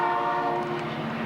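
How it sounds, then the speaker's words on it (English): A train horn sounds in Utah, a sustained, loud, chord-like blast held throughout the short moment with no talking over it. "What's that train? There's lots of trains around here."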